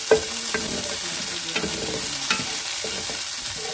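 Chopped garlic frying in a pan for a mung bean and coconut milk dish, a steady close sizzle broken by repeated scrapes and clinks of stirring.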